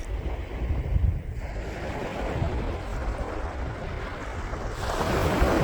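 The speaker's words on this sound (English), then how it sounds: "Relax to the sound of the waves." Ocean waves washing onto a beach, a continuous broad surf roar with wind buffeting the microphone, building louder near the end, no voices.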